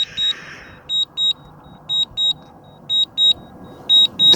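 Short, bright electronic beeps from a DJI Mini 4 Pro drone's 3X camera repeat in pairs at a steady pace over low background hum while the camera restarts.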